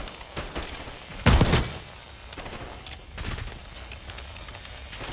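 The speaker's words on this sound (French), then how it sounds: "Il a un fusil à pompe." Shotgun blasts and gunfire from the video game Black Ops 6, with one loud, sharp burst standing out amid scattered shorter shots and background game sound.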